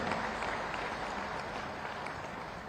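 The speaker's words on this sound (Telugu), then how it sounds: "ఇలా నమ్మిన వాళ్ళు గట్టిగా చప్పట్లు కొట్టండి" An audience claps at a public speaking event, a steady wash of applause heard from a distance that holds at an even, moderate level for the whole stretch without any voices standing out.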